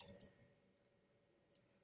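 A computer mouse clicks while someone creates a text box for a pop art portrait, giving a quick cluster of sharp, close clicks at the start, a few faint ticks, and one more crisp click near the end, amid near-silence.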